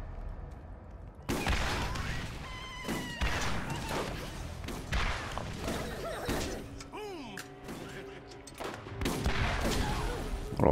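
Rocket launcher blasts and gunfire in the PC game Borderlands remaster, a string of heavy thuds and sharp bursts with crashing impacts, dense and loud, with faint talk underneath.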